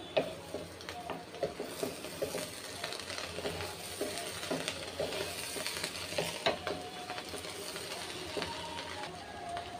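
Fried rice with soy sauce stirred in a pan, with a soft sizzle and a steady run of scraping spatula strokes, fairly faint and with no talking.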